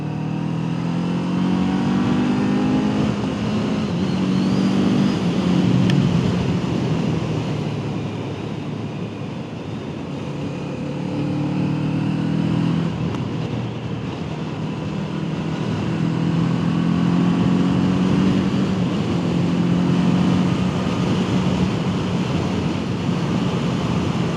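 A 2024 Kawasaki Eliminator 500 SE cruiser motorcycle ridden at speed gives a steady, loud engine drone that swells and eases, with heavy rushing wind noise throughout and no talking.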